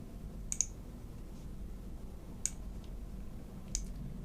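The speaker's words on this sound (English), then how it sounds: "So what we want to do is click on this, right click, and choose flat." A computer mouse gives three faint, sharp clicks spaced a second or two apart against quiet room tone.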